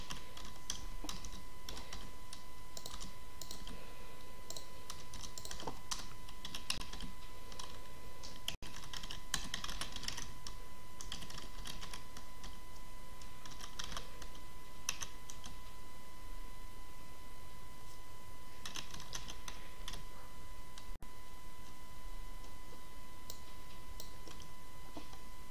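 Typing on a computer keyboard while writing text in Notepad, with steady clicking keystrokes coming in bursts and short pauses, close and fairly quiet over a constant faint hum.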